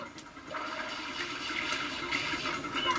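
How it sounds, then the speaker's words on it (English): Water gushing and splashing in Super Mario Sunshine, a soft continuous rushing wash at low level with a few brighter splashes, no voices. "Dumping goop, dumping water, make up your mind!"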